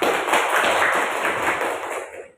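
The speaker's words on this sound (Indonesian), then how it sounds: "Presentasi yang bagus, kasih aplaus untuk kelompok pertama." Applause in a classroom for the first group's presentation, a dense burst of many hands clapping close by that holds steady for about two seconds and then fades out.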